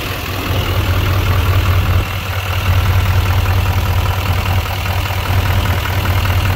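A GMC Sierra 3500HD Z71 with a 6.6 liter Duramax diesel idles close by, a loud steady low rumble with a faint clattering texture and no talking.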